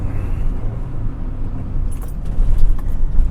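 A car engine rumbles loudly as the driver brakes while heel-and-toe rev matching, the low drone swelling near the end with a faint jingle of keys above it.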